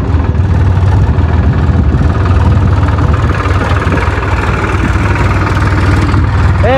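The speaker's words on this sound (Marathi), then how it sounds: "ट्रॅक्टर आलाय आणि ट्रॅक्टर आणलाय" A tractor engine idles in a farm field, a loud, steady low diesel throb with a constant vibrating rumble and little variation throughout, with no clear speech.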